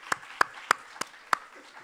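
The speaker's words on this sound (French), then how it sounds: "Et ben ça s'applaudit." A handful of scattered hand claps at a conference, about five separate sharp claps spaced unevenly over a quiet room, fairly faint and without a full crowd swell.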